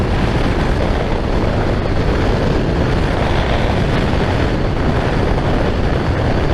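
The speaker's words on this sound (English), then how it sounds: "Malakas pa ng hangin yan mga papi" Strong wind roars across the microphone near the Bangui windmills, a dense and constant buffeting rush that stays loud and unbroken throughout with no voices.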